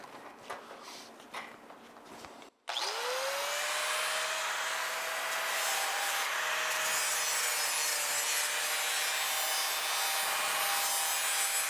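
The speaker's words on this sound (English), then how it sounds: "So I kind of use one of these larger abrasive wheels when I do these." A large abrasive wheel grinds a carbon steel skillet, a loud steady whine and rasp starting abruptly after a short gap and holding on continuously at close range, with a rising pitch as the wheel spins up.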